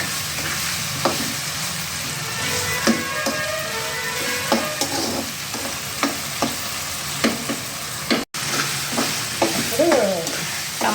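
Tomatoes sizzle in hot oil in a pan for a prawn curry, with steady frying hiss and repeated scraping clicks of a spoon stirring close up, and a brief cut near the end.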